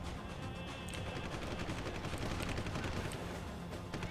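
Rapid bursts of gunfire from a shooter video game, Deus Ex: Human Revolution, loud and continuous with dense, rattling shots throughout.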